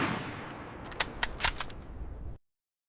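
A Model 97 pump-action 12-gauge shotgun fired in quick succession, a burst of about five sharp blasts packed into roughly a second over a rolling rumble, then an abrupt cut to silence.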